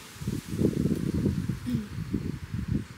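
Gusty outdoor wind buffets a microphone in low rumbling bursts, loud and close, with no voices.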